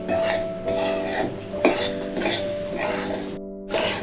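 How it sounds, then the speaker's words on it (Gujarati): Cashews, almonds and raisins stirred together in a pan for a Diwali sweet, with repeated metallic clinks and scrapes of a spoon against the pan over a steady background hum. "જો બધું હવે મિક્સ કરી લઈએ આપણે."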